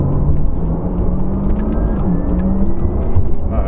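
A 2020 Porsche Taycan Turbo S electric car accelerates hard with its synthetic sound switched on, a loud, steady whirring drone that rises gradually in pitch over road and cabin rumble, with no talk.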